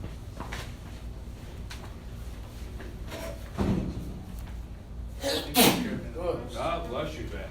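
A sneeze bursts out sharply in a room full of people chatting, preceded by scattered thumps and shuffling and followed by more talk.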